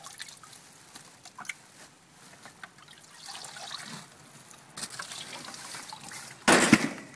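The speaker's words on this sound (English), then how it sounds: "I've just got this cool little planter pot, which is also another trash harvested item, which got little holes in the bottom." Water trickles and dribbles through small holes in the bottom of a planter pot used as a watering can, a faint, close splatter that builds to a brief louder pour near the end.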